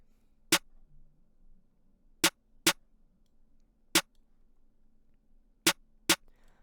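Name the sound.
layered clap and snare drum sample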